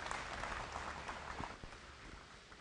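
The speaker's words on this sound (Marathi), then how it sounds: "जोरदार टाळ्या आपल्या खासदारांसाठी." A crowd at a felicitation ceremony in Vasai applauds to welcome an MP, a continuous, diffuse patter of many hands heard from a distance, faint and steady, slowly thinning toward the end.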